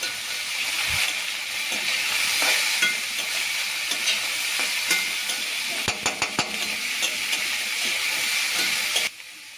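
Vegetables with grated ginger frying in a pan for sabudana khichuri, stirred with a spatula: a constant close sizzle and hiss with a cluster of sharp scraping knocks near the end, no talking.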